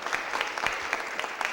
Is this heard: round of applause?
yes